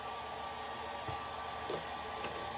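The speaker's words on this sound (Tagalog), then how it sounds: "meron na tayong 220 volts para i-power on itong ating electric fan" A 220-volt electric fan powered through an inverter runs with a steady broadband whoosh and hum, constant and moderately close, with faint small clicks.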